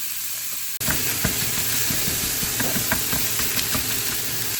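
Food hits a very hot pan and frying starts abruptly, a loud steady hissing sizzle with faint crackles and small pops that continues evenly to the end.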